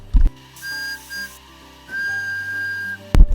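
Steam whistle of the Hunslet locomotive Lily on a miniature railway in a Roblox game, two sustained tonal blasts, the second longer, clear and loud, framed by brief thumps.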